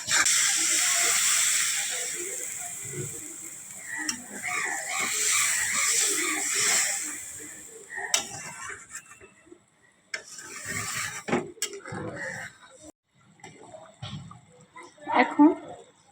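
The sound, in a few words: fish curry broth boiling in a pot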